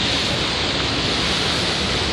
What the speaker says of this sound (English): that little waterfall connects all this